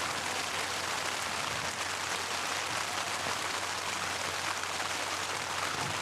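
Steady rain falls on an outdoor lawn bowls green at Campbelltown during a men's fours final, a constant dense hiss with no breaks and no voices.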